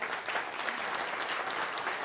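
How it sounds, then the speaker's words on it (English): An audience at a Stanford University breakfast briefing gives steady, dense applause that fills the whole short stretch. "Would you join me in just giving her a clap of appreciation?"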